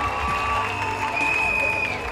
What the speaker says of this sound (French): On applaudit la princesse